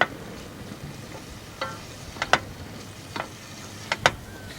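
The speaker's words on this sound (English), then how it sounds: "we're going to start our butter in our pan and we're going to throw in some wild boar bacon" Wild boar bacon sizzles quietly in butter in a pan, a soft continuous fry broken by a few sharp ticks and scrapes as it is stirred.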